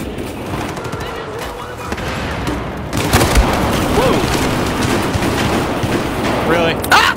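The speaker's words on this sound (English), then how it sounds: "Switching to shotgun." Shotgun fire in Battlefield 4 blends into a loud, chaotic firefight of booming shots and explosions, with rapid gunfire swelling partway through.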